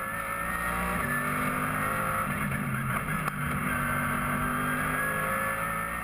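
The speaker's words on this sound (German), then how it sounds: "Das Überholmanöver am tiefsten Punkt der Nordschleife im Streckenabschnitt Breitscheid." Race cars, including a BMW M6, roar through the Breitscheid section of the Nürburgring Nordschleife during a VLN race, a loud, sustained engine drone rising and falling as they overtake, with no commentary over it.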